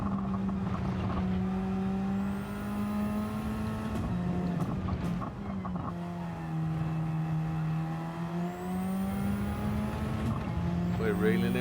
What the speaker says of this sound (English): anti-lag on, so that'll mean we get the next gear very quickly and the boost will be there already because it's a turbocharged car